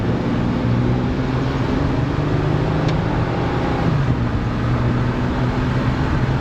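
A supercharged Ford Crown Victoria engine drones loudly and steadily with a low, even hum and road rumble, and no one talks over it.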